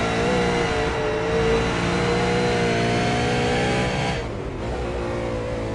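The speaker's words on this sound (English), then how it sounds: "That was a nice little drift there from Madison." A V8 Supercar drifts during qualifying on the Sonoma circuit, its engine a loud, continuous high-revving roar with shifting pitch that drops away briefly near the end, with no voices over it.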